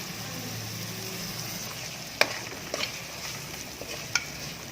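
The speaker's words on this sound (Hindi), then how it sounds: "टमाटर को भी 2 से 3 मिनट जो है हम लोगों ने भून लेना है।" Tomato masala fries in a pan for an achari aloo tinday dish, a soft steady sizzle broken by a few sharp spoon knocks against the pan as it is stirred.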